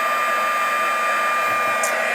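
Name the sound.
heat gun melting embossing powder on chipboard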